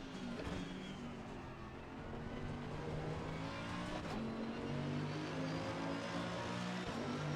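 A race car in a racing video game drones through its engine note, rising and falling as it accelerates and slows, a continuous close mechanical hum with no one speaking.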